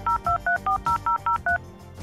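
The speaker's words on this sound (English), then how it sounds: "I'm sure we all remember the AOL dial-up screen, and of course, the classic dial-up sound." A dial-up modem dials out with touch-tone beeps: eight quick, evenly spaced two-tone pulses, loud and clear with nothing else over them.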